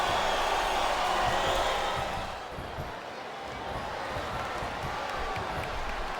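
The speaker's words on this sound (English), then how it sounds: "It sounds like this capacity crowd has something on their minds." A capacity crowd of about 10,000 fans in a wrestling arena roars as a steady, dense wash of noise, dipping briefly mid-way before swelling back, with distant thuds from the ring beneath.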